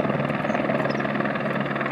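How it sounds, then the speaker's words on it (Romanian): A helicopter takes off close by on a Norwegian mountain road, its rotors and engine making a loud, steady, throbbing drone through the whole short stretch. "Elicopterul iară."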